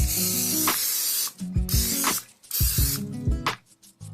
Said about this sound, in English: we're just going to lightly grease it with some non-stick cooking spray.